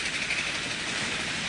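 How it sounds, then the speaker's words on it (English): Miniature railway A1 locomotive hauling a ten-coach train at speed, giving a steady, continuous rushing rumble with a bright hiss on top, close and fairly loud without a break. "drive an A1 hauling a 10-coach train at a scale speed of 80 mile an hour"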